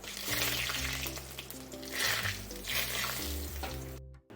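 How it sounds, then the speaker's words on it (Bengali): Bay leaves and cumin seeds spit and crackle in hot oil as a tempering for Bengali khichuri, a fairly loud, steady sizzle heard under background music, cutting off abruptly near the end. "আর দিয়ে দেব 2টো তেজপাতা, আর দিয়ে দিচ্ছি সাদা জিরে ফোড়নের জন্য।"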